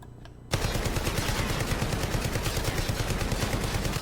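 Rapid automatic gunfire in Call of Duty Warzone bursts in suddenly and keeps going as a steady, fast, loud stream of shots.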